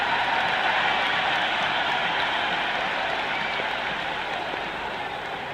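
Video game stadium crowd in Cricket 26 roaring and applauding after a six is struck, a dense, sustained wall of cheering that slowly fades toward the end.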